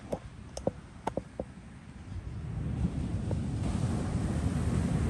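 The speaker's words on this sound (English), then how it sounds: "Oh, listen to those waves." Ocean surf at the Catalonia Grand Costa Mujeres beach resort in the early morning: a steady broadband wash of breaking waves swells up and grows louder midway, with a few faint clicks and taps early on and no talking.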